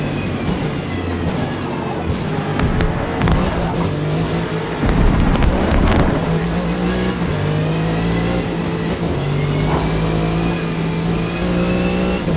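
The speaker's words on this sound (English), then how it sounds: "Oh, listen to that roar." A race car engine roars steadily in Forza Motorsport, a loud, continuous drone with rising and shifting pitch as it accelerates through gears, with a few sharp clicks and no talking.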